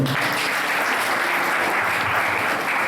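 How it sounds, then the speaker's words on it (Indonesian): A church congregation at a Sunday worship service applauding, dense steady clapping from many hands filling the room, loud and sustained throughout with no talking. "Berikan tepuk tangan bagi kita."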